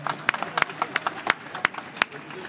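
An audience at the Dijon fair's centenary inauguration claps for chef ambassadors, with scattered, fairly regular hand claps at close range and a murmur of voices behind them.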